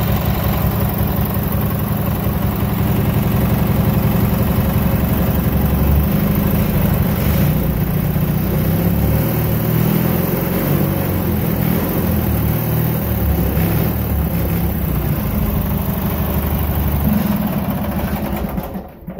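A Briggs opposed twin small engine runs continuously close by, idling with a rough, pulsing low rumble and swelling in occasional revs, with no talking over it for nearly twenty seconds.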